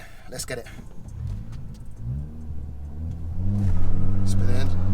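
A big-turbo Ford Fiesta ST revs up at a quarter-mile drag launch, the engine note climbing and swelling in loudness toward the end, while people talk over it.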